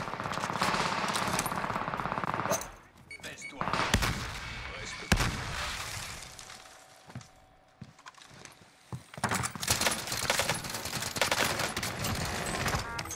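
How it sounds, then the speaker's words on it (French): Gunfire in the mountains in Warzone: dense bursts of automatic fire and scattered single shots come in waves, loud at the start and end with a quieter stretch between. "Ça tire dans la montagne, les gars."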